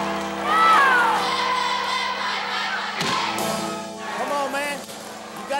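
A packed high school gym crowd cheering and shouting, a loud roar of many voices with whoops and a sudden thud partway through, and a person talking over it.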